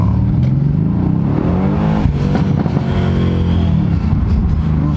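A Mercedes-AMG C63 S engine rumbles steadily while driving on a road, loud and close, with a brief rise in revs midway and no talking.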